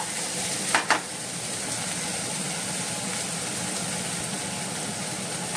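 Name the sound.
small tomatoes frying in a pan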